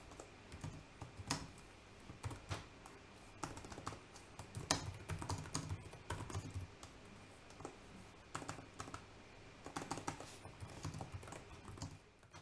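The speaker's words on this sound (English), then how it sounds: "the following is a small audio sample of the keystrokes" Keystrokes rattle in quick, irregular bursts on a Lenovo Legion 5 Pro laptop keyboard, close and fairly quiet with soft clicky taps and no voices.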